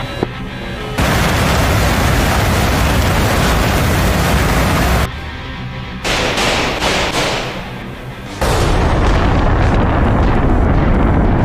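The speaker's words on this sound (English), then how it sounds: "Launches, missiles out." A missile launch from a combat aircraft in the DCS World flight simulator. A loud, sustained roaring rush holds for several seconds, breaks off abruptly, then returns just as loud and continues to the end.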